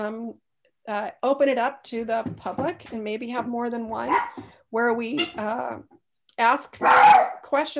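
A dog barks in the background of a virtual community committee meeting, heard briefly beneath a person's continuous speech.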